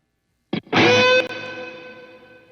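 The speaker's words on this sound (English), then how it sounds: "Now let me mute the delay and show you the reverb." Electric guitar plays a short solo phrase: a quick pick attack, then a sustained distorted note that cuts off and leaves a long reverb tail fading out, alone with no talk.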